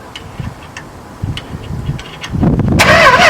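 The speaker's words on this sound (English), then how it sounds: "he's just going to hit the starter relay and show you how it cranks" A 1973 Plymouth Fury that has sat since 1979 is cranked on its starter: a few light ticks and clicks first, then the engine turns over loudly and rises into a strong, steady churn near the microphone.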